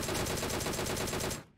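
A single rapid burst of automatic gunfire from the mobile shooter game PUBG Mobile, loud and close. Evenly spaced shots rattle for about a second and a half, then cut off into a brief fading tail.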